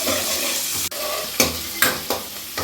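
Onions sautéing in a pan for chicken biryani: a continuous sizzle broken by several sharp scraping stirs and a sudden clank of the utensil, close and loud, with no speech.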